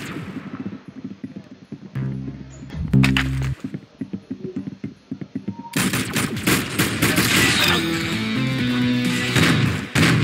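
Rapid bursts of gunfire in a Roblox shooting game crack repeatedly, loud and close, with a dense stretch of continuous firing in the second half under excited voices.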